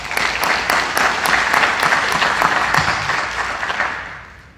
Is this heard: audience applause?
yes